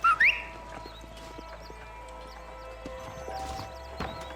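A horse whinnies briefly, then hooves clip-clop in a steady rhythm at moderate distance in the video game Red Dead Redemption, with faint birdsong and ambient game sound behind.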